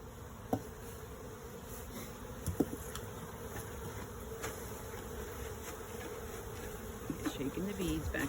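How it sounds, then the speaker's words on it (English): Honey bees buzz around an opened apiary hive, a faint, steady swarm hum with occasional louder passes near the microphone and soft clicks of hive lids. "We want to make sure the bees are down there."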